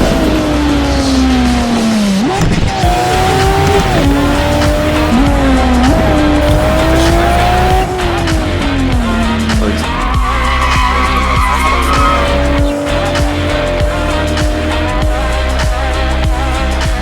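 A loud Nissan Skyline race car engine roaring nearby, pitch dropping and jumping as it shifts down through gears with heel-and-toe, with tire squeal and skidding mixed in.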